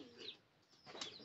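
A racing pigeon released in Solano, Nueva Vizcaya, gives faint, brief coos and flaps its wings in two short bursts, heard quietly outdoors with no talk.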